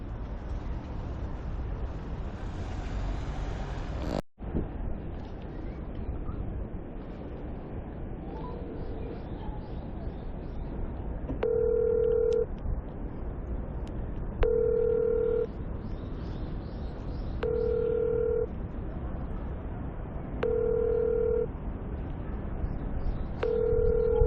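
A telephone rings in short, evenly spaced electronic bursts about every three seconds, five rings in a row, over a steady background rumble.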